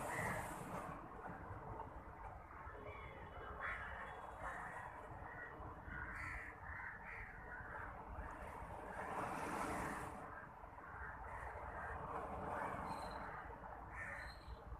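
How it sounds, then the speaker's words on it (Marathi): Sea waves pound the shore under overcast skies, a continuous heavy wash of surf with swelling surges, faint wind and an occasional distant bird call. "समुद्राच्या लाटा ह्या खूप जोरात चालू आहेत"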